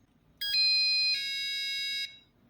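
Arduino piezo buzzers sound one after another, a short chirp and then two sustained bright electronic tones in turn, loud and close over a faint background hum.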